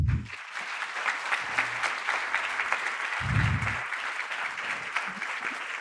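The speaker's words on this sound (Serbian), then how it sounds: "Ja bih sada zamolila da pozdravite aplauzom autore podcasta Sfera, Nemanju Dačića." An audience applauds steadily for the authors of the Sfera podcast at a forum event in Novi Sad, a dense, continuous clapping sound with a few low voice murmurs underneath.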